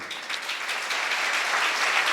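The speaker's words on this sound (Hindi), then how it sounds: "ये ताली आपने नहीं बजाई, मैंने बजवाई है।" Audience clapping during a Jain Paryushan festival sermon by a monk, a steady, fairly quiet wash of many hands that holds even and builds slightly over two seconds, with no voices over it.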